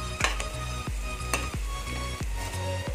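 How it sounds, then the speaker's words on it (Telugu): Egg fried rice being stirred in a hot pan, with a steady sizzle of frying under repeated scraping strokes of a utensil against the pan, close and fairly loud throughout with no talk. "బాగా మిక్స్ చేసుకోవాలి."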